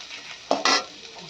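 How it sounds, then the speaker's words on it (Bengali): Potatoes frying in a pan, two quick scraping stirs with a brief sizzle burst, soft and close against quiet background. "আর এই যে এখন হচ্ছে আলু ভাজাটা"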